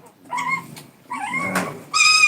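A dog whimpers and yips close by in three separate whiny bursts, each a little stronger, the last a sharp, high yip, with no talking over it.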